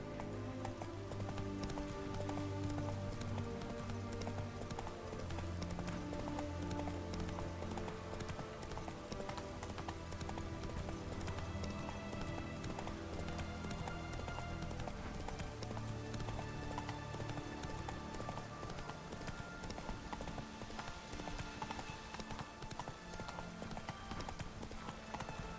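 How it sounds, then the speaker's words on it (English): A horse gallops in The Witcher 3: Hearts of Stone, its rapid hoof clip-clops running continuously under a steady layer of game music, with no voices. "А так то можна і на коні приїхатись."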